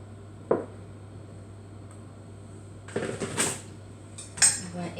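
Cake batter is spread and evened out in baking tins, with a few scattered scraping and tapping clicks of a utensil against metal over a quiet room hum.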